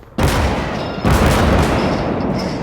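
Heavy artillery barrages in a WWII battle game thunder in two loud, sustained waves, the second starting about a second after the first and rumbling on without voices.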